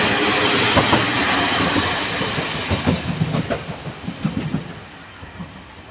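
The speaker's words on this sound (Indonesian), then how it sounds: "Nah, kereta lewat." A short one-car train passes nearby in Japan, a loud rumbling wash giving way to rhythmic clickety-clack wheel beats that fade toward the end.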